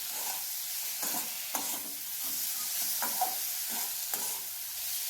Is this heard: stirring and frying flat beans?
yes